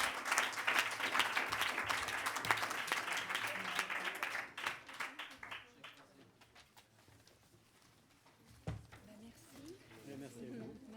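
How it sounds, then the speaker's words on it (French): Audience at a public debate on local French manufacturing giving warm applause to the speakers, a dense burst of clapping that gradually thins and tapers off into scattered claps and a quieter room. "Je pense qu'on peut applaudir chaleureusement nos 4 intervenants."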